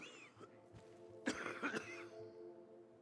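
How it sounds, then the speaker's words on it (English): A character coughs in the video game Dying Light: The Beast, a short burst of rough coughs and throat clearing midway over a quiet, steady background hum of game ambience. "That cough doesn't sound too good."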